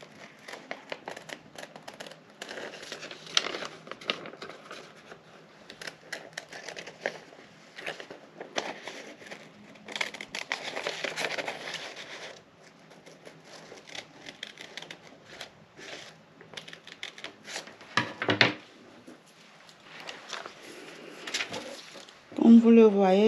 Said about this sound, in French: Nous allons donc couper notre patron.